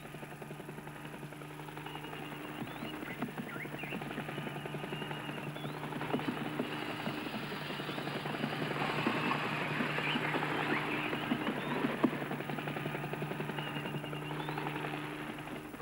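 A helicopter herds oryx toward a trap at Mount Etjo in Namibia, its rotor a steady, fairly distant drone under faint outdoor ambience, with a slight swell in the middle.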